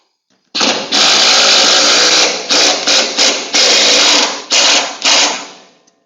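An impact driver drives a screw through wood into a metal shelf, its whirring, buzzing motor running in several close, loud bursts separated by brief pauses.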